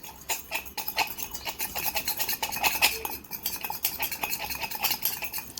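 A spoon rapidly stirs protein powder and milk in a cup, producing a dense, continuous run of clinking and scraping taps up close, with no voices.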